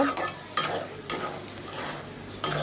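A spatula stirs fish roe curry in a pan as it finishes cooking, giving soft scraping strokes with a few sharper clicks against the metal over a faint steady sizzle, close and moderately loud.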